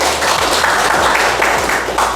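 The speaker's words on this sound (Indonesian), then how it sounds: "Tepuk tangan." A classroom audience breaks into applause, a dense, steady clapping that carries on for about two seconds without pause.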